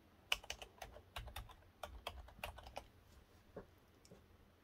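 A command typed on a computer keyboard at a Raspberry Pi terminal: a quick, uneven run of close keystroke clicks that slows to a few final taps in a quiet room.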